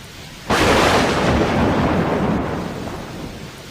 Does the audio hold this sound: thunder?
yes